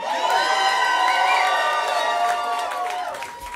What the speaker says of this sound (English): Everybody make some more noise for Jemima.